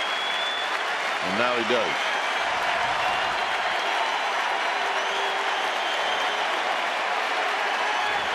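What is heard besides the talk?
baseball stadium crowd applauding pitcher leaving the mound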